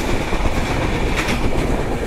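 The Sagordari Express between Rajshahi and Jashore rolls along from inside the carriage, giving a loud, steady rumble with rhythmic wheel clatter over the rails and no voices.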